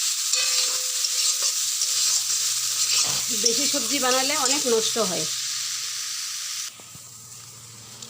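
Spices fry in a pan for a raw banana, potato and soya chunk curry, giving a steady hiss and sizzle while someone talks over it, before the sizzle drops away near the end.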